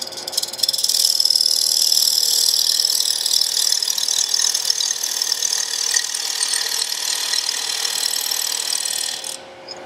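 A wood lathe runs steadily while turning an inlay, giving a continuous bright whirring, rubbing hiss near and loud for almost ten seconds before cutting off at the end, with no talking.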